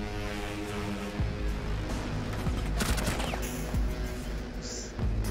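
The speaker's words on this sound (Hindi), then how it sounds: "इसने अपने बंदे को भी मारा गया गोली" Rainbow Six Siege gunfire: bursts of rapid shots crackle over a dense, loud game soundscape with a low rumble, while other game sounds play continuously underneath.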